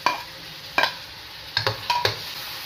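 Two small onions fry in oil in a pan for karhi pakora, a soft sizzle running underneath a few sharp scrapes and knocks as a spoon stirs them.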